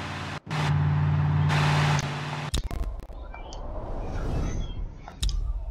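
A car in BeamNG.drive does burnouts, a loud sustained engine drone with a steady tone that cuts off abruptly, followed by sputtering revs, clicks and another surge, with no talking.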